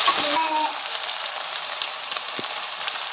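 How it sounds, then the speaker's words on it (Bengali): Tomatoes fry with ginger, garlic and spices in a pan, giving a steady close sizzle with light crackles and faint scraping taps, and no voice over it. "টমেটো একটু ভাজা ভাজা হয়ে গেলো,"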